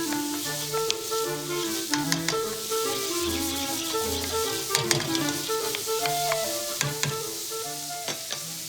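Celery, carrots and onion sizzle loudly in pork fat in a pan, a steady close crackle broken by sharp clicks and scrapes of stirring, with a faint tonal hum in the background.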